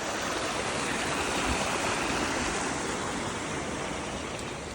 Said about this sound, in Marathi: शाळेपुढे सगळं पाणीच